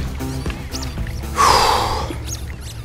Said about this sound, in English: It's a dog chewing on a chew toy.